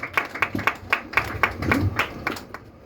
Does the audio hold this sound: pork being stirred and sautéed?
no